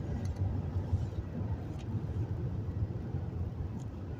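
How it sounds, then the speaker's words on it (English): A manual-transmission car cruising at 55 mph and downshifting into fourth gear gives a steady, low engine and road rumble heard from inside the cabin. The sound is continuous and moderately quiet, with no voices. "I'm 55 mile an hour downshifting into fourth gear."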